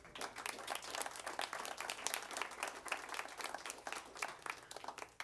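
Faint, distant applause ripples through a board of education meeting room for students, a steady patter of many hands clapping that continues evenly for several seconds.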